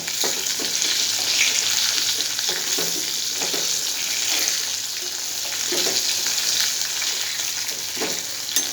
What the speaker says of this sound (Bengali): কম ফ্লেমে ভাজবো যাতে আলুটা বয়েল হয়ে যায়।